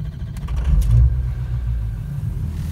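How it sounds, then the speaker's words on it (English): Ford 6.0 Powerstroke diesel pickup truck engine cranks and catches, then settles into a loud, low, steady rumbling idle close by. "Let me get this truck started."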